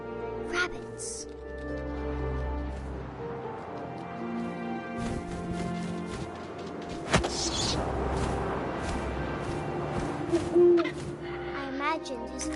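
Owl hooting in What Remains of Edith Finch, a few soft hoots rising out of a dense layer of game music and ambience, with a voice narrating over much of it.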